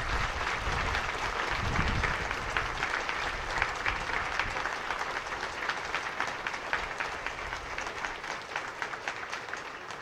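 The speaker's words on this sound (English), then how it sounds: "let's give them a big round of applause" At a school prize day ceremony, the audience gives a sustained round of applause, a broad wash of many hands clapping in the hall, steady and moderately distant.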